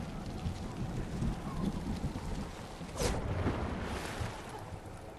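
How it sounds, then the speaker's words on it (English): Rainy storm ambience from the Fortnite battle royale video game, a steady wash of rain and rumble throughout, swelling with a brief louder gust or crack around the middle, no voices over it. "Dang, the fucking storm's right here too."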